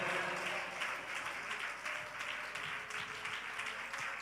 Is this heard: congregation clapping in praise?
yes